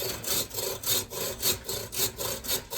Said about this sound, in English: get this little nub off with this cool bow saw that I picked up for a couple bucks